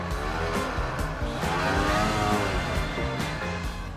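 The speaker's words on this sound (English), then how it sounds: "Fire up the engine, Sean." A snowcat engine runs steadily at close range, a continuous low rumble with a rough mechanical drone.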